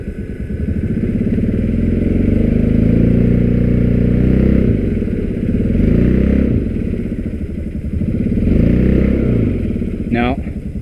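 UTV engine running steadily as the vehicle creeps forward while the diff lock is engaged, a loud mid-pitched clattering drone with slight swells, voices talking over it and a brief squeal near the end.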